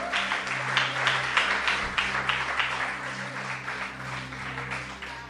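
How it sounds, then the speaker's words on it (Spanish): A church congregation claps loudly and steadily during a Spanish-language sermon, a dense wash of hands with slight surges for about five seconds, over a faint low hum. "Diga un aplauso fuerte a Cristo."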